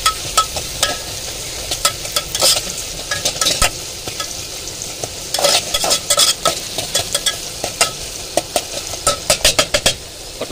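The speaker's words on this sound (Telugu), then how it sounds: "ఉల్లిగడ్డలు అయితే కాగి మంచిగా వేగినాయి" Onions frying in a pan during cooking inside a lorry give a steady sizzle. Frequent loud metal scrapes and clinks of stirring cut through it close up, and no one speaks.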